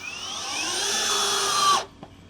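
DongCheng DCJZ2090i cordless impact drill whirs steadily, its pitch rising from slow to high speed before cutting off abruptly near the end, alone and close.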